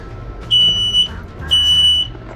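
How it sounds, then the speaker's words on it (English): A household smoke alarm on a cruising boat sets off while cooking, two loud piercing electronic beeps, each about half a second long, close and harsh, with faint kitchen noise between them. "I guess it's good to know our smoke alarms actually work, as they've never been tested."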